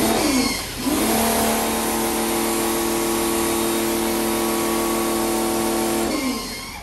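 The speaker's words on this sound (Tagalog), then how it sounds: "Yung sounds na yun galing sa ating pressure washer." A BLACK+DECKER pressure washer spraying a car tire runs with a loud, steady electric motor hum and hiss, starting up after a brief dip and winding down at the end.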